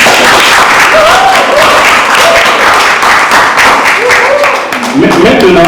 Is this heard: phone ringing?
no